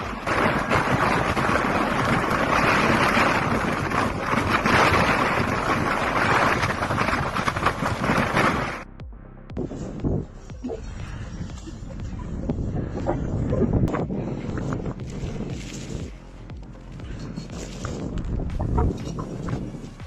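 Strong winter storm wind roars loudly and steadily, gusting and buffeting the microphone, then drops to a rougher, more broken rush of gusts, with faint footsteps or movement beneath.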